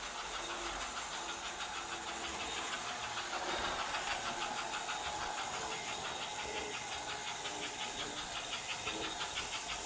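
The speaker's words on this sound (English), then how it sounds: "It's got a particularly nice chuff" An American Flyer PRR K5 Pacific model steam locomotive chuffs with a steady, fast, rhythmic hiss of compressed-air exhaust, close and continuous over a soft mechanical whir.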